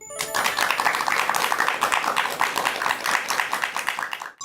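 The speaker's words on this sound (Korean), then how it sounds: "큰 박수로 강연 청해 듣도록 하겠습니다. 큰 박수 부탁드립니다" An audience at a lecture gives a big round of applause, dense and continuous clapping filling the room before fading out at the end.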